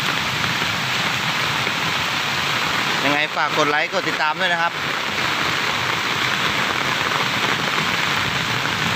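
Steady rain hisses down continuously while charcoal is being burned, with someone speaking briefly in Thai midway through.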